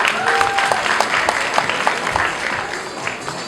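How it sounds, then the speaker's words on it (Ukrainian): An audience at a student-of-the-year award ceremony honouring a medical-faculty student applauds in a warm, continuous burst of many hands clapping, with sharper individual claps popping out. "Ваші оплески."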